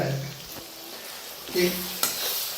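Tomatoes with ginger-garlic paste fry in a pan, a soft sizzle broken by stirring scrapes and a sharp utensil knock near the end, heard up close.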